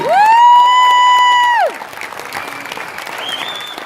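Audience applause for a film crew at a French preview screening of a comedy, clapping and crowd noise continuing under a loud sustained tone that cuts off partway through.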